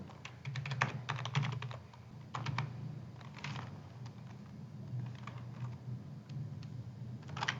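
Computer keyboard keys tapped to enter numbers, a few short bursts of quick clicking separated by pauses, close and quiet with no talking.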